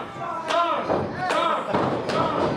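Three heavy thuds of wrestling body slams on the ring land at an even rhythm, close and loud, amid a chanting crowd and voices.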